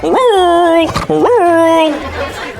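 A voice imitates a dog's long, drawn-out whirling bark, two sustained wavering howl-like calls, loud and close.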